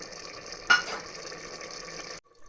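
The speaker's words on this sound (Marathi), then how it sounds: "तर या ठिकाणी आपण थोडं गरम पाणी ॲड करून घेत आहोत." Hot water poured into chicken biryani in a pressure cooker, a steady hissing pour and splash starting with a sharp hit and lasting about two seconds, then stopping, close and without talk.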